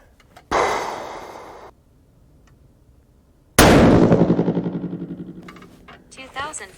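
Two loud, close blasts from a 6.5 PRC rifle firing Hornady 153 gr A-Tip loads, each cracking sharply and then ringing out in a long, pulsing decay across the open range.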